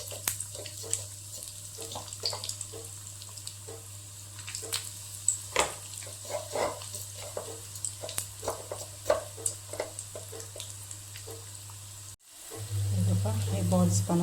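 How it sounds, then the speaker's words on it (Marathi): Bread balls deep-frying in hot oil, a close crackling sizzle with scattered bubbling pops that cut off suddenly, followed by a brief louder low hum. "बाकीचे पण हे मी तळून घेते."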